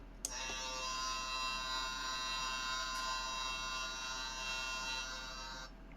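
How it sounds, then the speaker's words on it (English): A steady, buzzy electronic drone holds for about six seconds, the foghorn tone of a Chap Mei K.O shark research boat toy playset sounding alone, fairly loud, with a click at the start. "Foghorn 1."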